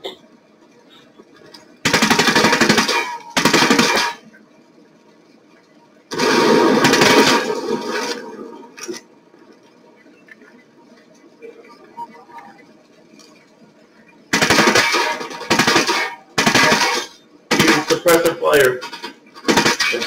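Gunfire in the tactical shooter Ghost Recon Breakpoint comes in several loud bursts of rapid shots, some long and some short, separated by quieter stretches with game sounds and speech.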